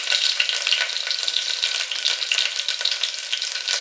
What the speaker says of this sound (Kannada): ಹಾಗೆ ನಾನು ಅಲ್ಲ ಬೆಳ್ಳುಳ್ಳಿ ಪೇಸ್ಟ್ನ ಹಾಕ್ಕೊತಾ ಇದ್ದೀನಿ. ಇದು ಸ್ವಲ್ಪ ಫ್ರೈ ಆಗಲ್ಲ, ಅದೆಲ್ಲ ಚೆನ್ನಾಗಿ ಫ್ರೈ ಆಗಿದೆ.